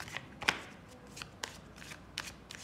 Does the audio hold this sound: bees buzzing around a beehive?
no